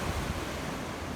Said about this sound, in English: The ocean is cool.